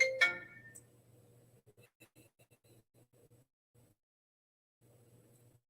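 A mobile phone ringtone sounds once in a short, bright chime burst at the very start, fading quickly into a quiet room with faint soft thumps and low hum afterward.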